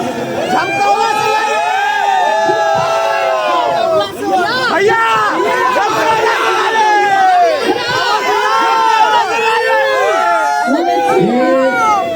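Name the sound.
crowd applauding and cheering loudly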